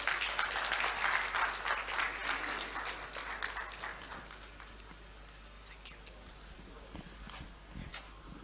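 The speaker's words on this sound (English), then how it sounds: "Please, with a round of applause, help me." Audience applause at a public lecture and alumni association launch, loud clapping at first that gradually thins and fades over several seconds, with a few scattered claps near the end.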